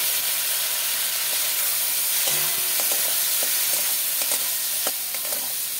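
Golda prawns fry in spiced masala in a pan, a loud, steady sizzle with occasional stirring clinks and scrapes throughout.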